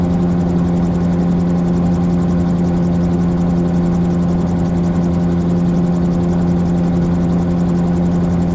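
A helicopter flies nearby over Snowdonia, its rotor and engine making a loud, continuous, close droning hum that holds steady throughout.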